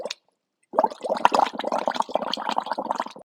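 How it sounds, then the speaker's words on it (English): A bubble machine sputters and rattles in a dense, steady run of gurgly, watery bursts that begin after a brief opening sound and a short silence, continuing close and fairly loud to the end. "The machine was making all kinds of noises, spluttering and vibrating"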